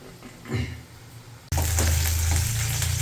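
Cauliflower pieces drop into hot oil and fry in a pan, a quiet start with a soft stir, then a sudden loud, steady sizzle with bubbling crackle close by.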